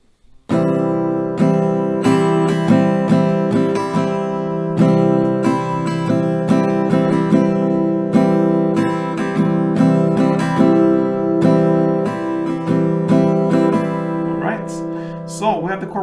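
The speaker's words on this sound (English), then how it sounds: "A couple rounds of it sounds like this." Acoustic guitar strumming a steady down-and-up pattern, with dense, full chords repeating in an even rhythm for several rounds, close and loud, with no talking over it.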